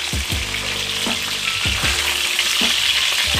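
Trout fillets, a huge Mt Lassen catch, frying in oil in a pan, giving a loud continuous sizzle broken by several sharp clacks of a utensil against the pan; no one speaks.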